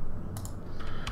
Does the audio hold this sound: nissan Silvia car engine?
no